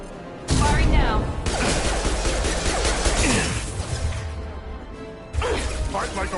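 Gunfire in the video game Mass Effect 2 Legendary Edition: loud, dense bursts of shots and crashing impacts fill most of the stretch, pausing briefly before another loud burst.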